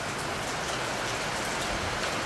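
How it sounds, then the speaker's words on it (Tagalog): Heavy rain pours down and thickens into a dense, loud, continuous hiss of drops striking surfaces nearby, with no pauses. "Biglang lumakas yung ulan."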